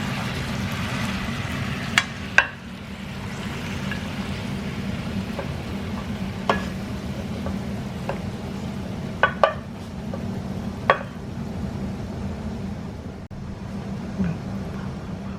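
Steak with long beans stir-fries in a pan, a steady low sizzle broken by occasional sharp clinks of a utensil against the pan.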